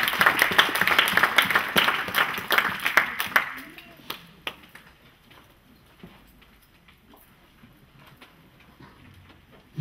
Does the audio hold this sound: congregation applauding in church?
yes